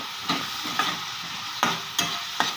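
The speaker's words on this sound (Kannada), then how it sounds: "ಒಂಜಿ ಮಲ್ಲ ಟೊಮೆಟೊ ತಂದೆ ಅದೇನು ಪಾಡೋಡು ಅಂಚೆನೆ ಒಂಜಿ ಕ್ಯಾಪ್ಸಿಕಮ್ಗೆ ತಂದೆ ಅದನ್ನು ಬಾಜಿ ಕರಿ ಫ್ರೈ ಮಾಡಿಕೊಡು" Tomato and capsicum fry in a pan with a steady low sizzle. A spatula scrapes and stirs through them in about five sharp strokes at irregular intervals.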